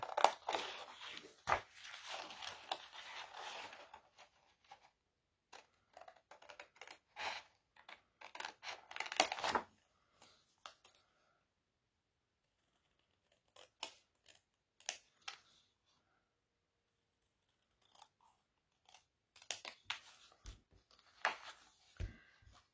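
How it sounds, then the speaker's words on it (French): Scissors slowly trim a paper square template for patchwork, close soft snips and crisp paper crunches in scattered clusters, dense at first and then sparse with long quiet gaps between cuts. "je découpe minutieusement en suivant bien le trait"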